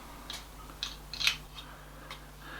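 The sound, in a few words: screwing adapter screw into Polemaster camera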